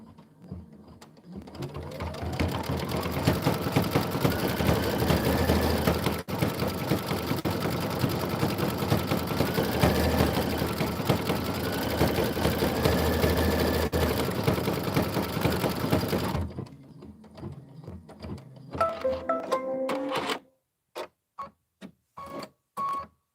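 An embroidery sewing machine stitches an outline with a steady, fast mechanical whir and rattle at close range for about sixteen seconds, then slows into a few separate clicks and thumps as it stops.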